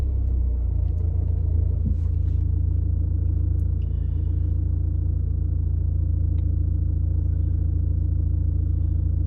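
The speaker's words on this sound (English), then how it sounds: "We'll start the car up." A car runs close by with a steady, deep, rumbling idle throughout, loud and even with no change in pitch and no talking.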